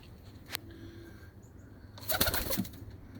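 Pigeons in a backyard loft where a hen sits on eggs: brief soft coos and a quick flutter of wings, with a louder burst of bird sounds near the end, close by over a low steady background.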